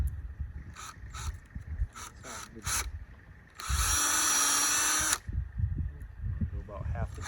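A power drill bores into a maple tree for tapping, whirring steadily for about a second and a half, loud and close, between stretches of quieter background noise and light movement sounds.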